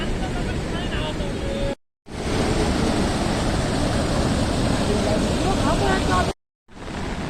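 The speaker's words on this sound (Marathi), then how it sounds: "ह्या बघा पाणी वाढत असं ह्या बघा आता पाणी किती येईल आता" Loud, steady rush of a flooded stream rising in heavy Konkan rain, with wind buffeting the microphone, broken by two brief dropouts; a voice speaks over the noise.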